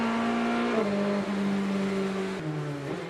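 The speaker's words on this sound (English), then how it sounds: "And with the field ready to relaunch into the Florida night, it is King who has control of this GTD Pro" GTD Pro race cars, including Porsches and a BMW, accelerate at night during the Sebring 12 Hours in Florida, a loud sustained engine howl that drops in pitch at each gear shift.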